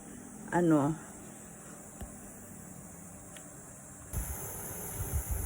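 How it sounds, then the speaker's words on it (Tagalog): A portable air cooler fan runs with a soft, steady whirring hiss close by. A short vocal sound comes near the start, and the tone shifts slightly louder near the end. "Literal na air cooler fan siya."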